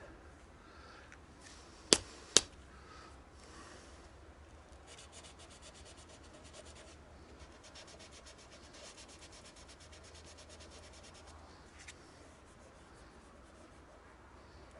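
Hand sanding on a Peugeot 406 car body panel outdoors before painting, soft steady rubbing strokes in bursts, with two sharp knocks early and occasional faint voice.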